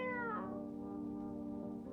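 A cat in the horror video game No I'm Not A Human gives a single drawn-out meow that falls in pitch and trails into a steady tonal hum, heard clearly with no talking over it.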